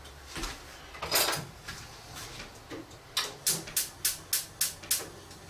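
Metal spoon clattering against dishes while grabbed during lacto-fermented chilli sauce making, a few soft knocks followed by a run of about eight sharp, evenly spaced clinks close by in a quiet kitchen.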